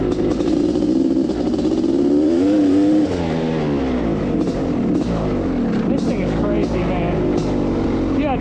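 A Honda CR500 two-stroke motorcycle engine running while ridden, a loud droning buzz that rises and falls as the throttle rolls on and off, close with wind noise.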